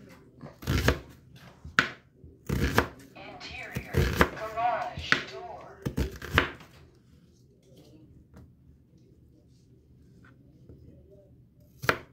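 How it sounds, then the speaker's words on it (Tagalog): Onions chopped with a knife on a board for meatballs with misua: a handful of loud, irregular cutting thuds spread across the first half, with a voice talking between strikes and one last knock at the end. "Ngayon naman, magagaya tayo ng onions or sibuyas. Gayatin din natin siya ng maliliit."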